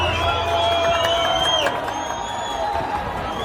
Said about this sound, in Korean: 환호하는